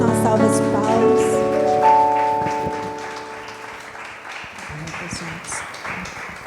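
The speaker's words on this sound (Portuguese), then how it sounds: "Vamos dar uma salva de palmas." A congregation claps together at a women's church gathering, the applause building as sustained musical tones fade beneath it, with voices mixed in.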